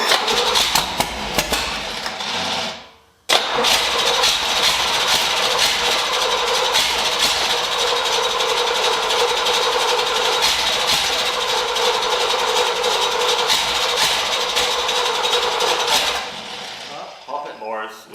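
A 1968 Corvette with a 454 engine running with an oil pan fault, a steady loud rumble with metallic clatter, broken briefly near the start, close and continuous until it cuts off near the end.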